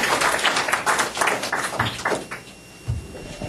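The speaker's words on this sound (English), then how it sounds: "Let's give him a big round of applause." An audience at a Minnesota voter ID amendment forum claps, a dense close patter of many hands that thins out toward the end.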